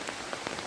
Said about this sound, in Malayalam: പക്ഷെ ഭയങ്കര മഴയാണ് സുഹൃത്തുക്കളെ